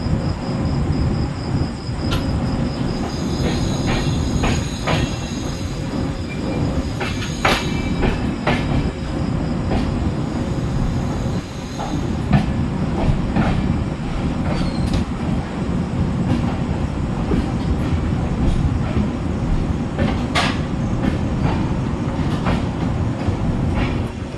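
An express train stands at platform 6 of Puri station, with a continuous heavy rumble, intermittent metallic clanks and clicks, and close, loud carriage noise throughout.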